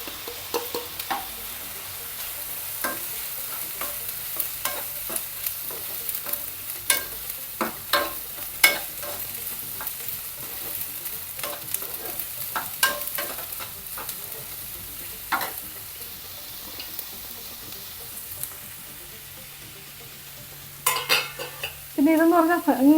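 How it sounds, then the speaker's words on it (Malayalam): Chopped onion sizzles in a pan with ginger garlic paste, a steady frying hiss broken by frequent sharp clicks and scrapes of stirring, growing louder and busier near the end. "ഇനി ഇതിൽ സവാള അരിഞ്ഞില്ലേ, അതും ഇട്ട് കൊടുക്കാം."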